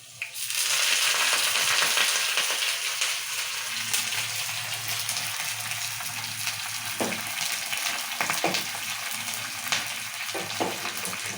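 Steady hiss of tempering spices sizzling in hot oil for a raw tamarind soup, close and continuous, with a few soft stirring clicks toward the end.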